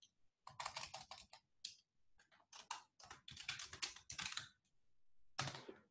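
An email address and password being typed on a computer keyboard, a close, quiet run of rapid key clicks in bursts with short pauses between them.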